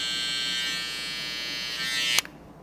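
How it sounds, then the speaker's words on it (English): An electric hair clipper buzzes steadily and close while trimming curly hair for a taper fade, then cuts off abruptly with a small click near the end. "take the corner of your clipper, your trimmer, come around"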